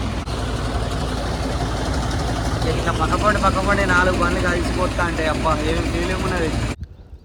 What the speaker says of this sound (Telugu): ఇక ట్రాక్టర్ అయితే అక్కడ నుంచి వస్తుంది